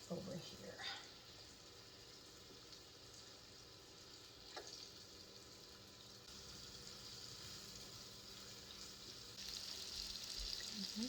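Beef browning in avocado oil in a pan, a steady low sizzle and crackle running throughout at moderate distance, with a brief clatter near the start.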